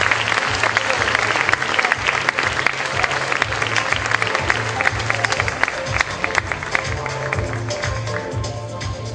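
Audience clapping at a school event in a gymnasium hall, brisk and continuous, over a thumping, rhythmic low music beat that pulses throughout.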